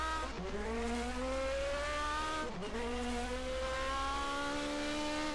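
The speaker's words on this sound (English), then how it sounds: "Downshifting one more time. This is the second hairpin once again. Accelerating out." Race car engine in a racing video game, set around 1980 at the Norisring street circuit, winding up in rising pitch as it accelerates out of a hairpin, with a brief dip at a gear change before climbing again; loud, steady and alone.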